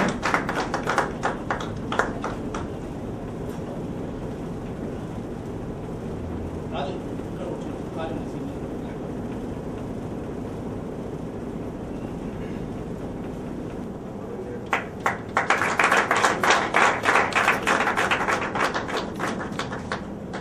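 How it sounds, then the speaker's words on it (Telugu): Audience applause welcoming a guest speaker at a Shanti Chakra Foundation gathering: brief clapping bursts near the start, a quieter stretch, then a dense, sustained round of clapping from about fifteen seconds to the end, with some speech in the room. "అందరం కూడా చప్పట్ల ద్వారా జైపూర్ సార్ గారికి స్వాగతం చెప్పాల్సిందిగా మనవి"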